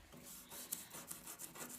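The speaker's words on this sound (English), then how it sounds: "So now I'm going back with my toothbrush to these detail areas, and it's been soaking in the denatured alcohol. Okay, so I'll kind of scrub at it a little bit" A toothbrush scrubs at carved furniture detail soaked in denatured alcohol, giving quiet, rhythmic bristly rubbing strokes with small scratchy peaks, faint and close.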